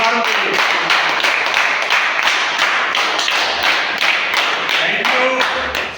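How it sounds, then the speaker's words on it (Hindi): An audience at a motivational seminar claps in a steady, rhythmic stream of loud, close hand claps, with a voice briefly heard among them. "एक बार जोरदार तालियां आप सारों के लिए।"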